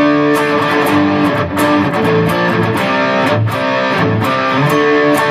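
Distorted electric guitar plays a riff, sustained and heavily overdriven with steady repeated chords and picked notes, loud and alone without talk.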